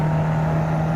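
Fiat 500 Abarth engine in the racing game Assetto Corsa on the Nordschleife, a steady buzzing drone at high revs, loud and continuous and heard on its own.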